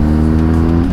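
A BMW R 1250 GSA motorcycle at full throttle gives a loud, steady engine roar with strong low harmonics that climb slightly toward the end, heard up close and without talk.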